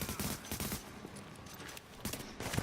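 Rapid bursts of automatic gunfire from the video game The Division crackle in quick volleys, pausing briefly before another burst, moderately loud with no talking.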